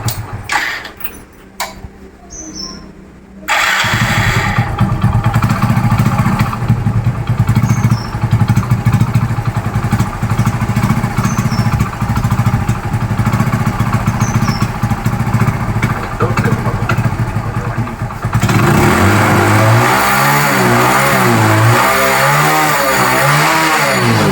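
A motorcycle engine catches after a few quiet moments and settles into a loud, steady idle up close, then revs repeatedly in rising and falling surges toward the end.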